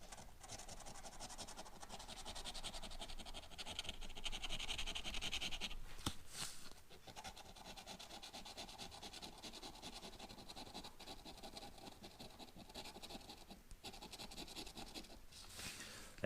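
Lottery scratch-off tickets are scraped with a coin or fingernail, giving a faint, continuous dry rasping with short pauses and a few sharper scrapes, quiet and close.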